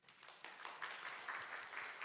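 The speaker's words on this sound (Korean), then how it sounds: "박수 한번 해줘봐요" A church congregation at a Sunday worship service gives faint, distant applause for the broadcast team, a soft wash of clapping heard from afar through the sanctuary.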